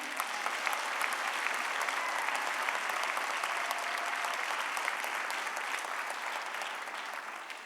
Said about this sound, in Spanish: Si le va a dar un aplauso al Señor